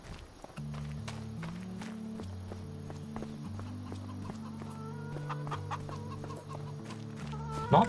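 Chickens cluck around a coop in the video game Farming Simulator 25, with short clucks and hoof-like clopping over steady background music.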